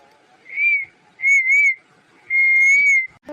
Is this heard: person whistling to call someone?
yes